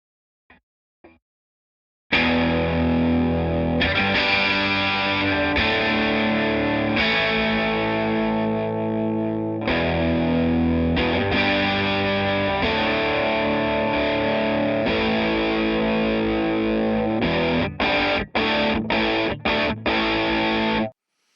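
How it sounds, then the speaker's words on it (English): An electric guitar with heavy distortion plays chunky riffs of sustained, crunchy chords, ending in a run of short, choppy stabs; a couple of faint taps come before it starts, with no talking. "I'm going to add some distortion, take off the high frequency boost"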